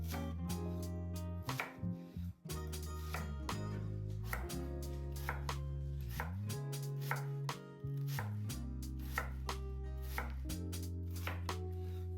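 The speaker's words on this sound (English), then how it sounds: "Finely chop 1 onion." A knife finely chopping an onion on a cutting board, sounding as rapid, loud, evenly spaced chops close by in quick bursts with short pauses, and no talk.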